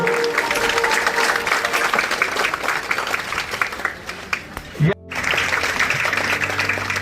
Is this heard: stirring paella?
no